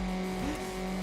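A Mazda Miata NB's engine holds a steady drone in Need for Speed Underground, with a brief pitch dip and recovery midway through a one-second burst, loud and continuous with no talking.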